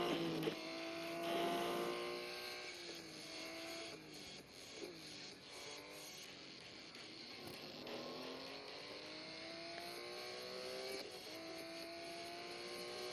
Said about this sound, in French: Plus les tours passent, plus la voiture accélère vite.